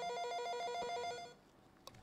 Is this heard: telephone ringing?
yes